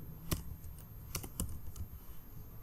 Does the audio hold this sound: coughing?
no